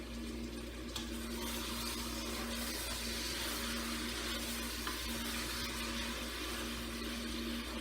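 Lamb meat frying in a pan, a steady, continuous sizzle with faint stirring, constant in level and heard alone.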